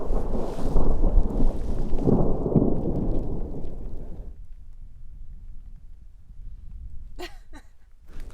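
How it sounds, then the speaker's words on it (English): Distant thunder rolls over the high slopes of Pico de Orizaba, Mexico's highest volcano, a low rumble swelling for about four seconds before fading into quiet, with a few faint crackles near the end. "There's thunder going down in the distance."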